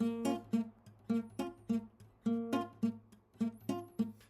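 Nylon-string classical guitar fingerpicked in a repeating reggae pattern with left-hand muting cutting notes short, giving a choppy, percussive, staccato feel; close and unaccompanied.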